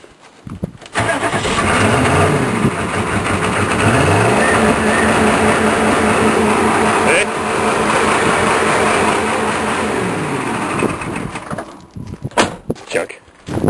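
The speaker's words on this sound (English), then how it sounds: "Starter's still engaged. Yeah, burn up that starter." Starter cranks a cold Chevrolet K3500 truck engine in a long, continuous, loud rhythmic churning that lasts about eleven seconds, then cuts off into a few scattered knocks.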